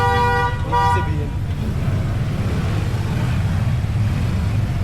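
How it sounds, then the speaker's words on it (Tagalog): A vehicle horn honks in Manila street traffic, with two short toots near the start over steady engine rumble and road noise while people talk nearby. "Bumubusina dyan."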